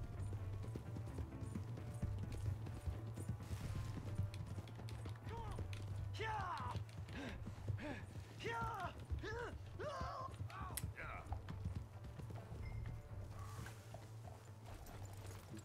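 Horse hooves clip-clop at a steady walking pace in the video game Red Dead Redemption 2, quiet and continuous under a low engine-like drone, with in-game voices talking over them.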